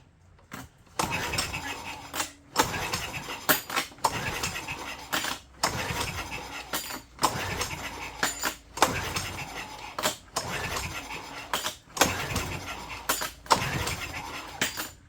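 An iPower 2000 watt inverter generator is pulled over and over to start it. Repeated sharp recoil-cord bursts come in a regular rhythm about every second and a half, close and fairly loud, without catching into a steady run.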